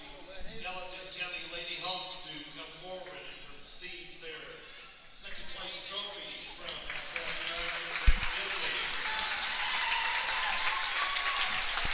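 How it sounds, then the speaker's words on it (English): Lady Hawks fans stand and clap as their team receives the second place trophy, the applause swelling into a dense, steady roar in the second half after a crowd murmur. "All these Lady Hawks fans standing up and clapping for our Lady Hawks as they receive the second place trophy."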